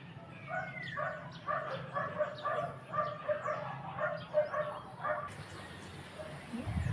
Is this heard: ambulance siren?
no